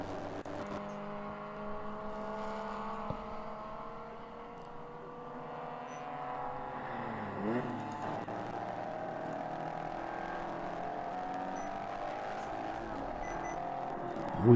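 An on-board view from the leading mustard-colored race car in a ChampCar endurance race at Pittsburgh, with a steady whirring engine drone that rises and falls in pitch with gear changes, fairly faint and continuous.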